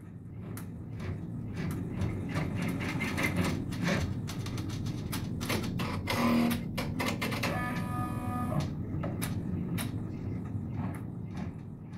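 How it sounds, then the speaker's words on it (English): An embroidery machine stitches registration marks onto backing, producing a rapid run of close mechanical clatter and needle taps with a brief whirring stretch in the middle, steady throughout with no talking. "Now stitch out the second set of registration marks directly onto the backing."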